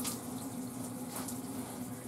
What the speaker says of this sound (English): We're going to push out the water from the system